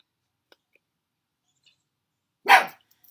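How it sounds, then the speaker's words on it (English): A single short dog bark, fairly close, breaks an otherwise quiet stretch with a few faint clicks. "the dog is going to bark"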